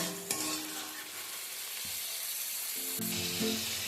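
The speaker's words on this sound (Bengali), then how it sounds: "রসুনের সাথে মেটেটা মিডিয়াম ফ্লেমে দু থেকে তিন মিনিট একটু নাড়াচাড়া করে নেব" Goat liver and garlic frying in a pan over medium flame, a steady close sizzle with scraping stirs from a utensil, no voices.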